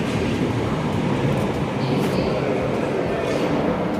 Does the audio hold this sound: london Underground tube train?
yes